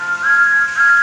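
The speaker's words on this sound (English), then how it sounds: "Then Andrew heard Thomas's whistle." A cartoon steam train whistle for Thomas the Tank Engine, one short, clear, steady high toot that sounds alone and close.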